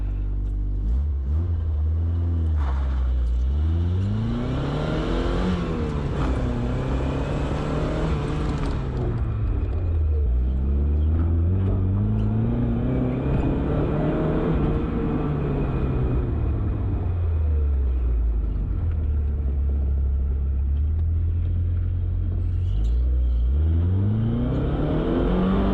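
An old Italian sports car with a warm engine revs up hard in a parking lot, its note rising and falling through repeated loud acceleration pulls across the run, close and continuous with no talk.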